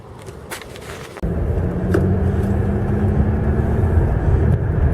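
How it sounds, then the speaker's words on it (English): A car drives along the Yarrawonga foreshore on an overcast day, a steady close engine and road drone that swells after a quieter start and holds on without talk. "Now we're just driving along the foreshore of Yarrawonga"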